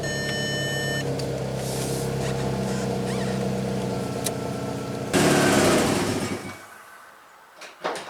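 A VW Golf MK4 on a test drive, its engine running steadily with road and wind noise, swelling louder for a moment near the end before dropping away.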